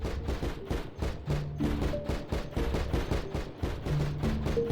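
Rapid gunfire from a bigger gun in the video game Cataclysm: Dark Days Ahead, a dense, steady burst of loud shots repeating through the whole stretch without pause.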